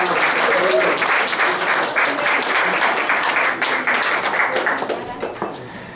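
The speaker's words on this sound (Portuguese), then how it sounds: "palmas para vocês" Audience applause at the opening of a cultural centre, dense sustained clapping from a crowd that stays loud and steady, then thins and tapers off near the end.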